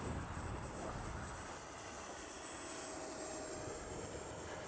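Steady, loud jet engine roar with a high-pitched whine from an E-flite F-15 model jet engine in launch mode, sustained and even throughout, with no voices.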